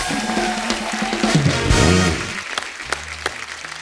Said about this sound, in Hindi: एक बार जोरदार तालियां हो जाए यार